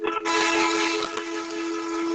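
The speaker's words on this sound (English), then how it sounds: "Which noise is this? Train or something?" Loud, sustained train whistle with a steady tonal blast starting abruptly and holding for about two seconds, heard through an online class connection with no talking over it.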